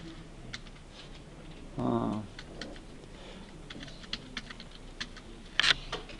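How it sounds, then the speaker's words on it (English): Calculator keys are pressed one by one while entering values, giving sparse, close plastic clicks scattered across a quiet background, plus a short louder rustle. "Make sure you use the opposite key on the bottom row of your calculator to type in those negatives."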